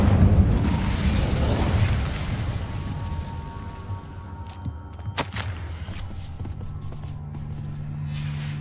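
In Hogwarts Legacy, an Incendio fire spell goes off with a loud burst that fades into a low rumbling roar over several seconds, followed by faint clicks and a sharp crack near the middle.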